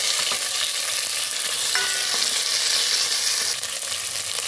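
Chopped onions and green chilies fry in a rice cooker with bay leaf, making an even, close, unbroken sizzle that holds for the whole stretch, with a faint stir and no talking.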